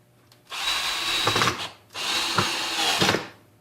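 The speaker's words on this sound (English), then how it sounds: "so we're just going to drive a few screws." Hart cordless drill driver sinks a 7/8 decking screw in two short bursts, each a close, whirring motor spin with a strained grind as the screw seats, separated by a brief pause.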